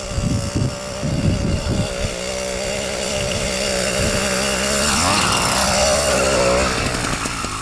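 A push bike fitted with a 100cc engine revs hard while climbing a steep hill, a loud buzzing two-stroke drone that rises in pitch and strains continuously, heard close.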